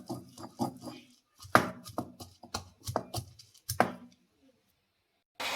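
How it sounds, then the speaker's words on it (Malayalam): A stone pestle pounds pappadam chutney in a traditional stone mortar, a run of sharp, close thuds in an uneven rhythm, then a pause and one last knock. "ആ ഇടികല്ലിലൊക്കെ ഇടിച്ചെടുത്താണ് നമ്മൾ തയ്യാറാക്കിയത്."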